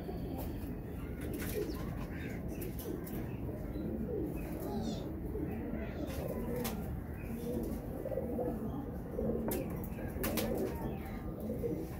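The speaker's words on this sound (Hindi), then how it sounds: "छोटे से थोड़े अवर होते हैं ये कबूतर।" Medium-sized domestic pigeons coo softly and steadily in a low, throaty murmur, with faint wing flutters and chirps over a constant background hiss.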